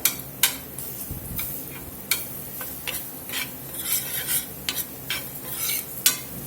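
Flour cooks in a pan of sausage gravy, with a soft sizzle beneath repeated scraping and clinking strokes of a utensil against the pan, close up.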